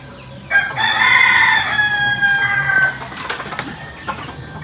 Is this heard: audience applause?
no